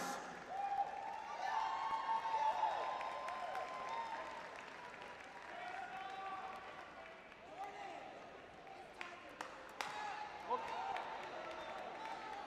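Crowd applause at a UCLA student-athlete graduation ceremony, with a dense, sustained wash of clapping from a large audience in a hall, punctuated by a few sharp accents, while voices talk through it.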